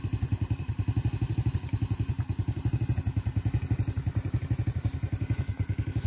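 A motorcycle pulling a cart loaded with oil palm fruit chugs along a plantation track, its engine putting out a steady, rapid rhythmic thumping close by with light rattling.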